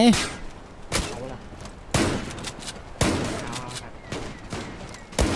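Gunfire in the online shooter ZULA, with loud sharp shots bursting at roughly one-second intervals amid a busy, noisy game mix.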